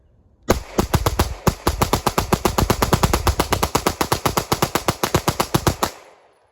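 Glock pistol with a G-Flex trigger and a stick magazine firing fully automatically outdoors, one long, loud, close string of rapid evenly spaced shots lasting over five seconds before stopping abruptly.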